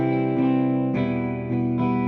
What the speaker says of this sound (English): Adding RC20 just gives a little bit of wobble and distortion to that guitar